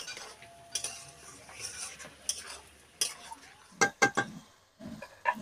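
Fried cauliflower stirred with masala in a pan, a spatula scraping and clanking against metal in irregular bursts over a soft, continuous sizzle, with a cluster of sharp knocks toward the end and no speech.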